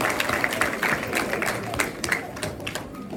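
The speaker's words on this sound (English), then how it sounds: "let's give them a round of applause" Applause for eighth grade coaches at a middle school assembly, a steady crowd of clapping hands with dense overlapping claps, moderately loud and continuous throughout.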